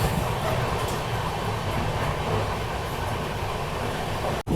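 Hubballi–Bengaluru superfast express train running nonstop, a steady loud rumble and rattle of wheels on track heard from inside, continuous throughout with a brief dip near the end.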